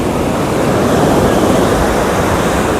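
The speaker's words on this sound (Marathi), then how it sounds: "आम्ही अगोंडा बीचवर आलेलो आहेत आणि सध्या खूप जास्त हाय टाईड आहे पाण्यामध्ये" Ocean waves at high tide on Agonda beach in Goa, a loud, steady roar of surf mixed with wind buffeting the microphone, continuous and close throughout.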